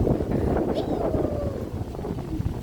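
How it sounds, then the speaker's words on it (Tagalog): Strong wind roars and buffets the microphone in a steady, dense rush that lasts the whole moment. "Pagpunta dito ng hangin, nakakalakas."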